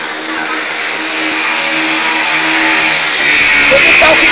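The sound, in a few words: car engine revving, stuck in a hole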